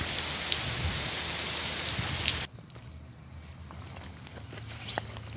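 Heavy rain pours steadily outdoors at a carp fishing spot, a dense loud hiss that abruptly drops to a softer patter halfway through, with scattered drops and faint knocks.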